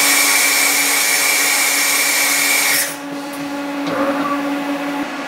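Haas CNC mill automatic tool changer reversing to tool 8: a steady whirring machine drone with a tonal whine that cuts off abruptly partway through, followed by quieter hum and a few faint clicks.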